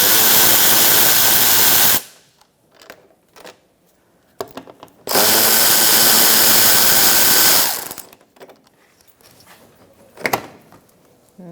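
Impact gun rattling off bolts on the front lower control arm of a 2004-2009 Mazda 3 with a 19mm socket, in two loud sustained bursts of a couple of seconds each, separated by quieter clanks and handling noises.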